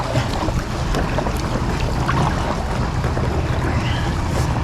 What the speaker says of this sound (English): as the tide's coming in, the water's just going a bit scatty